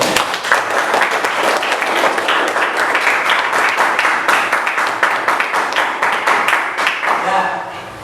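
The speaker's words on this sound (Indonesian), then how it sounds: "tepuk tangan dulu buat kita" A classroom audience of students claps together in a dense, lively round that holds steady for several seconds before tapering off at the end.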